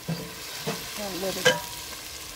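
Onion sautéing in about two tablespoons of olive oil for a smoked pork ham shank vegetable soup: a soft sizzle with a couple of utensil taps and a brief spoken phrase near the start.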